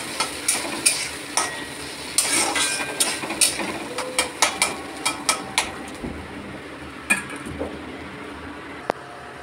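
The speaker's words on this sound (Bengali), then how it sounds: "এটা ভালো করে নেড়ে নেব, খুব সুন্দর করে যেটা নেড়ে নেব।" Ground spice paste being stirred into a fish curry in a pan with curry leaves, a rapid series of sharp scraping clacks of a spatula over a faint sizzle, close and dry, no voices.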